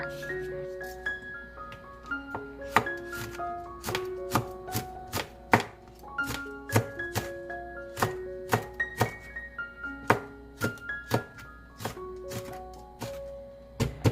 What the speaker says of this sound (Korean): 홍고추는 열십자로 가르고 쫑쫑 썰어줍니다.